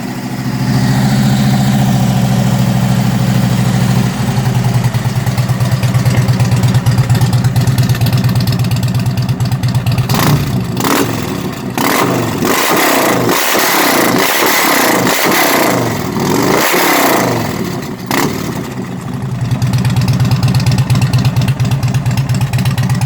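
A motorcycle fitted with a Cobra exhaust, Rinehart intake and Stage One tune, played back through a phone speaker: a steady loud idle, then a run of sharp throttle blips and revs before settling back to idle.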